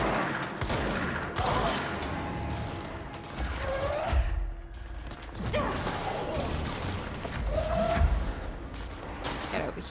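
Gunfire in the video game Control, a steady stretch of shots and impacts running through the whole span amid game noise, with a couple of louder bursts and some voice underneath.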